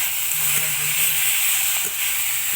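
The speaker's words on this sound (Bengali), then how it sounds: "দেখো আমি এখন ভালো করে কষিয়ে নিই।" Pre-fried vegetables, carrots and peas, stir-frying in a pan, giving a steady bright sizzle and hiss throughout with faint clatter.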